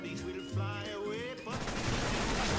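Rapid video game gunfire bursts out loud and dense in the second half, following a stretch of raised voices and game effects.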